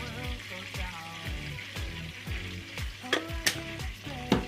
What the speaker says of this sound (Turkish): Bütün bunları güzelce şöyle harmanlıyorum. Baharatlarım hazır. Tereyağımla da bütünleşti.